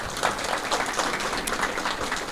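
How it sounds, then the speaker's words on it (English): Audience applause at an end-of-year law school event, a steady wash of clapping from a crowd filling the room at even loudness throughout, with no voices over it. "So a round of applause again for all of you."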